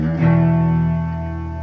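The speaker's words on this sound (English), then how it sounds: "So the end of the song should sound like this." A distorted electric guitar rings out the closing chord of a song, a single strummed hit with chorus-like shimmer that sustains and slowly fades, heard alone.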